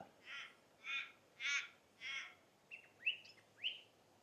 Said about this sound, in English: I think it's a wren, a little wren.